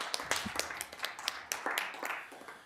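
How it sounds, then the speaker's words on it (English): A small group claps at a county quorum court meeting, producing scattered, uneven handclaps that are fairly quiet and come in a loose patter over less than three seconds. "so big clap for the A-Win radio system"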